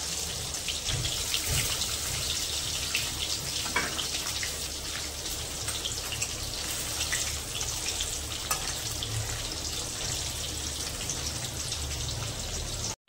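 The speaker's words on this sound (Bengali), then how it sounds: "এপিট ওপিট করেই ভাজবো যাতে কুসুমগুলো একটু ভাজা ভাজা হয়।" Eggs frying in a pan and turned on both sides give off a steady, moderately quiet crackling sizzle with scattered pops, continuous and unbroken by speech.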